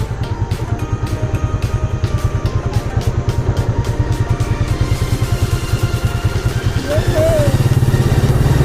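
Kymco Super8 125 motorcycle climbing a steep uphill road, its engine droning steadily and close throughout with a slight rise in effort near the end.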